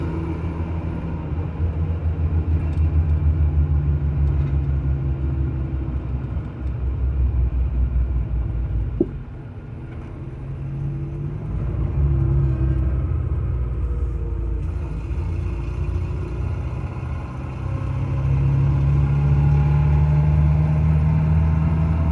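A Geo Tracker with a manual transmission driving, its engine giving a steady low rumble heard from inside, rising and easing slightly as it runs, with no talk over it.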